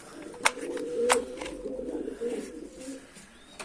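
A returned kanat postası pigeon gives soft, close cooing in a low rolling murmur, with a few sharp clicks or knocks over it.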